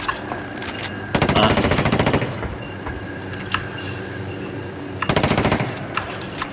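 Automatic gunfire in the video game Ghost Recon Wildlands: two loud, rapid bursts of about a second each, separated by quieter game ambience with a few scattered single shots.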